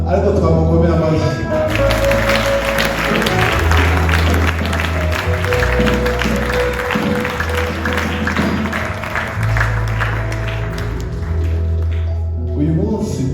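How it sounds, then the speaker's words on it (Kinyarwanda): A church congregation applauds during a Sunday service, with clapping layered over loud music with strong bass and sustained tones throughout. "twamukomera amashyi"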